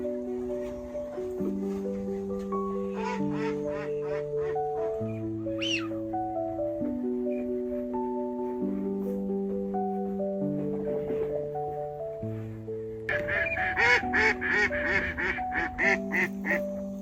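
Ducks quack at a hunting pond in the Landes, a run of nasal calls in repeated bursts, clear and fairly close, louder and denser near the end.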